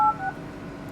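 A Huawei Honor 6 phone sounds a quick pair of clear keypad dial tones, loud and close, followed by quiet background hiss.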